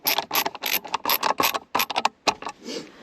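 A ratchet tightens bolts on a Toyota GR Corolla armrest in quick bursts of loud, close clicking that stop and start, with no speech.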